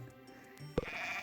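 A sheep in the farming game Harvest Moon gives one short bleat, preceded by soft game tones and followed by a sustained chime-like tone, all fairly quiet.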